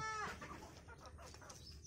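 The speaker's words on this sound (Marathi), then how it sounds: "ही ओरिजिनल गावरान कोंबडी आहे" A native country hen clucks and cackles close by in a short burst, with some farmyard background noise and no talking.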